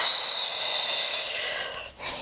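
Long, steady breathy exhale during a full-body stretching and flexibility routine, close and fairly loud, fading out near the end with no voices.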